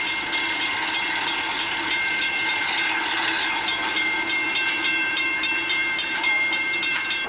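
A DA class diesel locomotive hauls a 20-car train through Kawakawa toward Opua in New Zealand in 1985, with a loud, continuous rumble and metallic rail hiss and no talking.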